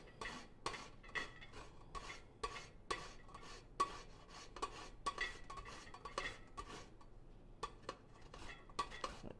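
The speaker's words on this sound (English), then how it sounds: "I want to zest one lemon over my pot, and I'm going to go ahead and do that now" A lemon is scraped against a zester over a pot in rhythmic, fairly quiet rasping strokes, roughly one a second, with faint metallic clinks and no talk.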